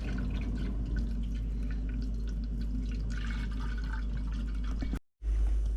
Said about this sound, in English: We are going to begin to fill this up with water.